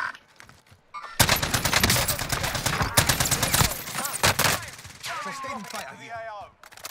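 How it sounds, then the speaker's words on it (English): Gunfire in Call of Duty: Modern Warfare comes in loud, dense bursts of rapid shots, a short pause between them, then more firing; a voice briefly joins near the end. "You're getting shot from behind."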